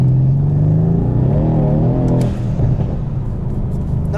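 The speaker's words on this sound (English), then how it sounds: "Really feel that torque. That's where this motor shines." Engine of a 2017 Mercedes-Benz C63 S AMG pulls hard under acceleration, a loud, deep, rising drone heard from inside the cabin that climbs in pitch before easing into a steady rumble.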